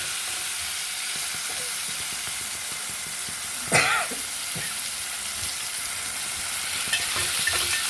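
Ingredients frying in a pan for foxtail millet upma, a steady broadband sizzle running throughout, with one brief cough-like burst near the middle and a few faint clinks, no talk.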